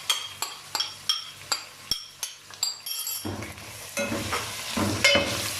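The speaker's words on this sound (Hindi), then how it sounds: "अब हम इसमें अदरक लहसुन पेस्ट और हरी मिर्ची शामिल करेंगे" Beef fries in a pot with ginger garlic paste and green chilies. A spoon clinks against the pot in a steady run of sharp taps, then gives way to a louder, continuing sizzle as the mixture is stirred.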